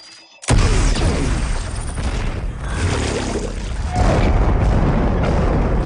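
A new weapon fires in the film Spectral and blasts a ghost: a sudden loud boom opens into a sustained roaring, crackling wash of energy that swells again near the end.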